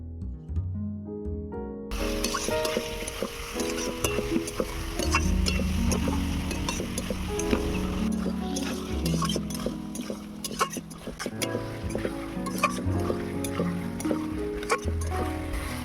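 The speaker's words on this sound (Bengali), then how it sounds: "এবারে দিয়ে দিলাম বেগুন আবারও একটু ভালো করে কষিয়ে নেবো" Potato and eggplant pieces being stir-fried in a pan for a fish curry, with repeated spatula scrapes and metallic clinks over a soft sizzle, close up, accompanied by steady background music.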